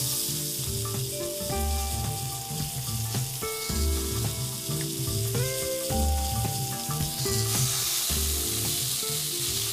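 Pork chops stuffed with sun-dried tomatoes and spinach sizzle in a hot pan with a steady, dense crackling hiss, close and continuous, under a background of light music.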